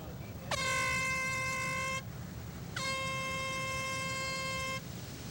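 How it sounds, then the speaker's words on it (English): An air horn ends a surfing heat with two long, loud blasts separated by a short gap, over a low background of surf and wind. "the horn sounds to end the heat"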